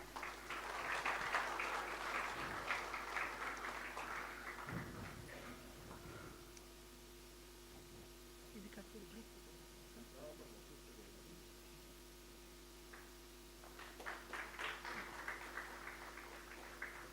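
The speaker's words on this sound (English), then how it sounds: "Good round of applause." An audience applauds at a memorial day event honouring Dr. B.R. Ambedkar. Clapping is moderate and comes in bursts at the start and again near the end, with quieter hall noise and faint voices between them.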